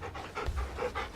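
A dog companion in a video game pants in quick, rhythmic breaths, close and steady, with no talking over it.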